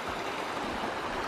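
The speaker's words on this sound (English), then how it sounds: "Such a cute little creek." A small creek flows with a soft, continuous broadband rush and gurgle, steady and moderately faint with no voices.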